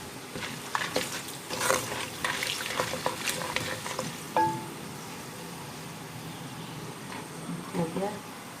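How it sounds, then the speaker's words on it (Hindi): Frying in a pan while cooking white korma with whole brown cardamom, a steady close sizzle with stirring scrapes throughout, quieting slightly toward the end. "और इसको थोड़ा सा फ्राई करें।"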